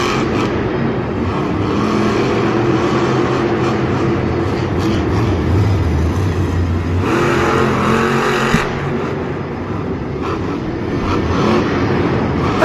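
A monster truck engine roars steadily at a Monster Jam freestyle run, a loud continuous drone with a surge of revving midway and arena ambience throughout.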